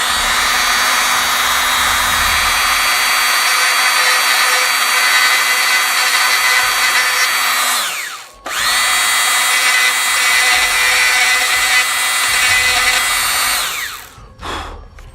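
A Dremel rotary tool grinds brick detail on a hobby model in a loud, continuous high whine, with a brief stop near the middle before the grinding resumes, then a short final burst.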